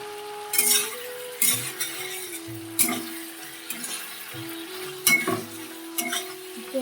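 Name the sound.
potatoes and spices being fried and stirred in a pan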